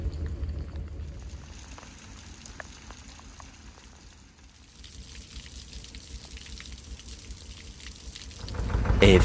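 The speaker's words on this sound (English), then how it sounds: "it was raining so hard" Continuous rain patters on a surface, a soft hiss that dips midway then swells louder toward the end.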